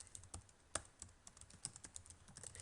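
Someone types a website URL on a computer keyboard, with irregular quick key clicks that sound close but fairly quiet, and no talking.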